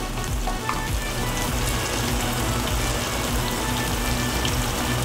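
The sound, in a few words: frying onion, tomato and turmeric for okra potato curry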